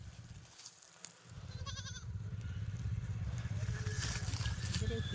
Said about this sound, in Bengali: কাদের ছাগল আসছে জল খাওয়ার জন্য?